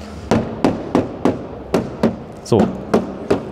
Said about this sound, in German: Er hämmert die ganze Zeit hier drauf.